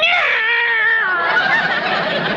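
A cat lets out a long, loud, drawn-out yowling meow, sustained and wavering over about two seconds, close and alone, in an old-time radio comedy setting.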